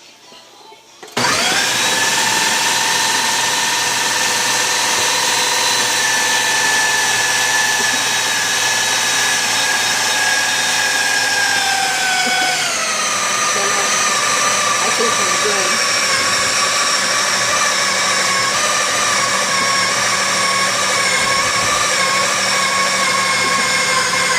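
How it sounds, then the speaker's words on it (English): Ninja food processor crushing cassava and plantain for fufu, a loud steady motor whir with shifting pitch that runs nearly the whole time and drops slightly partway through, no talking. "So what I'm going to do is to go ahead with my Ninja food processor. I'm going to crush it."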